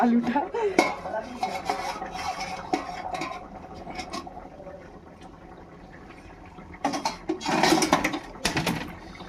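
A metal lid comes off a pot of boiled meat with clattering clinks and scrapes of cookware, close and fairly loud, busier bursts near the start and end.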